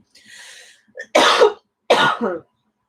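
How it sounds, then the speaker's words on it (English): A smoker lets out a raspy breath, then two harsh, chesty coughs in quick succession, close to the microphone with quiet gaps between. "Hold on, smoker's cough."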